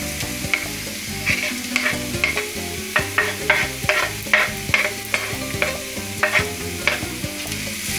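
Diced jamón frying and being stirred in a pan, a steady crackling sizzle broken by repeated scraping stir strokes, close and fairly loud, with no talking.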